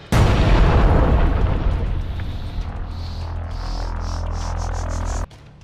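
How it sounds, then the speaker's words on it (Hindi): A sudden loud explosion as a remote-detonated charge goes off inside a building in Khan Yunis, followed by a long rumbling, debris-filled roar that decays over several seconds before cutting off abruptly. "घात लगाए लड़ाके उस इमारत में रिमोट के जरिए विस्फोट कर देते हैं"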